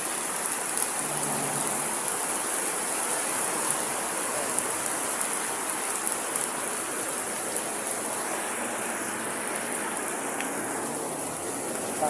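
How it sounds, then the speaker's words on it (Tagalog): Heavy rain pours down in a village barangay, a dense, steady hiss of drops on surfaces with no let-up and nothing else standing out. "Ulan na talaga guys. Malakas ng ulan."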